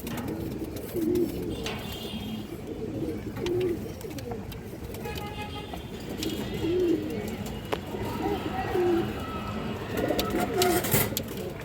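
Low, soft pigeon coos repeat every few seconds under steady outdoor background noise, with occasional faint chirps and rustling.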